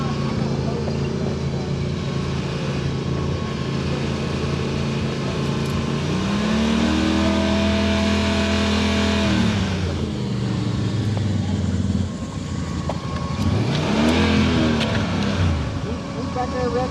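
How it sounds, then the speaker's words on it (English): A Can-Am quad engine revs hard while climbing a steep hill, with two rising and falling surges of revving over a constant engine drone as people talk nearby. "Who's back there doing the revving up?"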